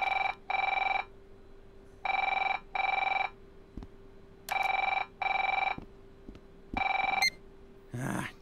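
An in-game telephone in While We Wait Here rings in loud double bursts, four paired rings separated by short silences, with a faint low hum underneath and a small clatter at the end.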